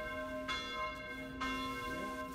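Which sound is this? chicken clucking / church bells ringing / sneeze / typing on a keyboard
church bells ringing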